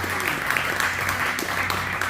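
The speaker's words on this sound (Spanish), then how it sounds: "si le vas a dar un aplauso, dáselo con toda la alegría" A church congregation applauding at a resurrection service, a dense steady clapping of many hands filling the room, with faint voices mixed in.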